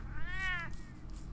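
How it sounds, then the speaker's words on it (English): A cat in a Batman video game gives a single clear, rising-and-falling meow, fairly close, over a quiet low background hum. "Oh, you have a cat."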